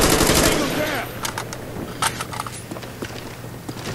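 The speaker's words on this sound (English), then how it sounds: "there's a guy shooting at me" Gunfire in Call of Duty Black Ops, a loud rapid burst of automatic shots at the start, then scattered sharper single shots and cracks further off amid game noise.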